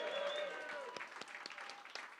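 Audience in a Belfast music venue cheering and applauding for a local music figure, steady dense clapping with scattered whoops throughout, moderately faint and continuous.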